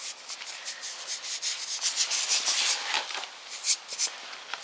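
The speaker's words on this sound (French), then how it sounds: "je vais frotter tout ça avec un chiffon" A cloth rubbed with baking soda and petroleum jelly oil across a surface during an LED screen backlight repair, an uneven close scrubbing hiss of repeated strokes with no talk.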